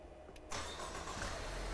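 A car engine starting up in a repair shop during scan tool diagnostics, the starter catching about halfway through, then a steady low idle rumble that stays faint and continuous, with no talking.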